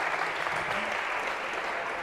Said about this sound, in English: This is really like the lamest sort of thing to be applauding over.